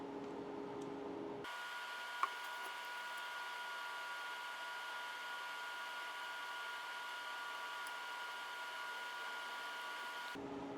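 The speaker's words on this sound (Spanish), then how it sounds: "Vamos a tratar de soldar este componente" Hot-air soldering of a component on a Yaesu radio board: a steady blowing hiss with a faint whine switches on abruptly, runs evenly for about nine seconds, then cuts off.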